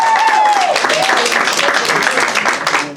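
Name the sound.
applause and cheering for Bernadette at a civil wedding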